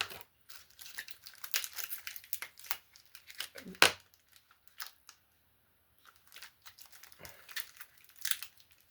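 Plastic toy packaging crinkles and rustles in close, irregular bursts as a spoiler piece from a 2024 reissue TMNT Party Wagon toy is pulled out, with one sharper crackle partway through and a short quiet gap.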